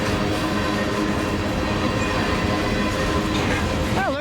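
A Union Pacific mixed freight train rolls past close by with a steady, loud wheel-and-rail roar that fills the whole stretch, a brief metallic squeal rising near the end.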